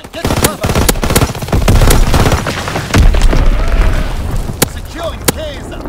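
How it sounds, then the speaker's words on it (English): Enemy bomb strikes in the World War II shooter Call of Duty WWII boom and rumble through dense, continuous gunfire, with sharp cracks scattered throughout at steady loudness. "Enemy bomb incoming."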